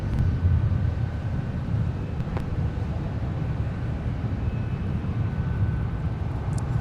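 Alaska Airlines jet departing runway 12 left at Minneapolis–St. Paul airport, its engines a steady low roar mixed with wind buffeting the microphone, heard at a distance with no one talking.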